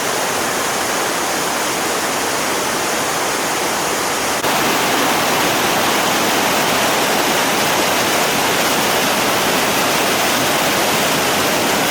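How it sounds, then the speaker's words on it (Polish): Waterfall near a campsite in Norway, a steady close roar of falling water filling the whole scene without pause, with no voices. "A z tyłu ten wodospad co u nas na kempingu."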